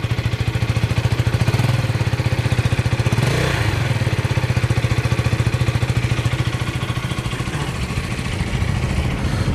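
A KTM Duke 250 motorcycle engine runs steadily close by, a loud, rapid pulsing putter with a brief rev partway through.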